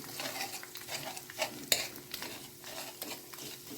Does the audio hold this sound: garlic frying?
yes